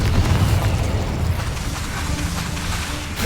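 Fiery spell blasts in Hogwarts Legacy on Xbox Series X, a dense booming burst with heavy low rumble at the start that settles into a steady roaring wash of game effects.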